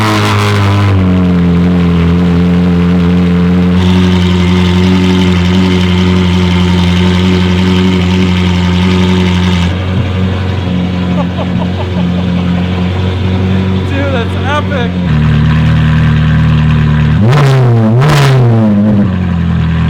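A Ferrari 458 with S-Line straight pipes, new exhaust parts and catalytic converters removed, idles with a loud, deep, raspy drone, then gets a sharp rev that climbs and falls near the end, very close and loud.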